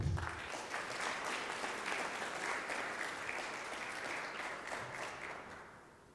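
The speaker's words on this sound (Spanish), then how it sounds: "fuerte el aplauso para él" A seated audience applauds a guest engineer being introduced at an event, sustained clapping from many hands that holds steady for several seconds and then fades slightly at the end.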